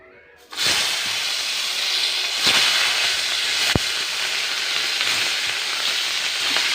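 Pangas fish pieces hit hot oil in a pan and burst into a loud, steady sizzle that runs on unbroken, with a couple of brief clicks from the pan.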